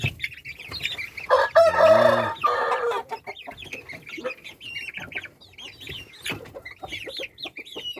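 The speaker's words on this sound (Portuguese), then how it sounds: "Baita de um frango também." A rooster of an old fighting-cock breed crows loudly once near the start, followed by scattered clucks and small chirps from nearby fowl.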